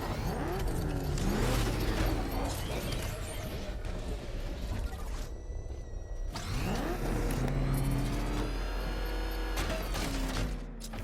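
Batmobile from Batman: Arkham Knight driving through tunnels, a sustained engine roar with rising revs and mechanical whirs, loud and continuous with a brief dip midway, game dialogue murmuring underneath.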